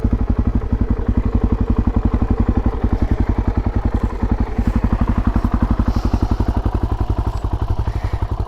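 A small motorbike, a Dizzer with 12-inch scooter tires, idles after being revived, its engine a steady rapid thumping putter, loud and close, running evenly throughout.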